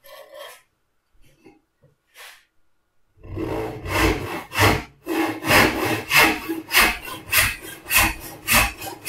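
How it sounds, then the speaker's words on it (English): A hand saw cuts through wood held in a vise with steady, rhythmic rasping strokes after a few quiet seconds with faint scrapes. "Sawing is always made easier if you keep your wood nice and level in the vise."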